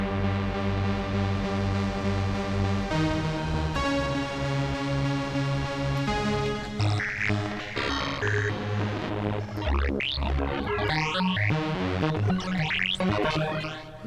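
Playtime Engineering Blipblox synthesizer plays randomized sounds, steady droning tones giving way to sweeping, warbling filtered patterns, loud and continuous without any voice.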